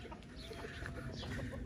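A chicken in a village farmyard gives a brief, agitated burst of clucking, close and moderately loud over faint background noise.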